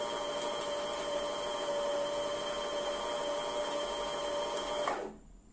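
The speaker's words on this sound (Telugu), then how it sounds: "ఇది మీరు ఎలా స్పీడ్ పెంచుకుంటా పోతే మిషన్ స్పీడ్ కూడా అంత పెరుగుతూ ఉంటుంది." A Usha Janome Sew Magic computerized sewing machine runs with a steady, close motor hum and whir at an even level, then cuts off abruptly near the end, leaving near silence.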